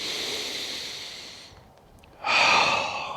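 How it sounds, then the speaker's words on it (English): A deep breath of crisp, cold outdoor air: a long, soft inhale, a quiet pause, then a louder, breathy exhale close to the listener. "take a deep breath"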